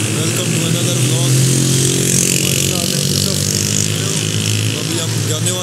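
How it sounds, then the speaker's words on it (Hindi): Riding on a motorbike, with a steady loud engine drone and heavy wind rush throughout, the motor humming evenly without pauses. "तो हम बाइक पे हैं।"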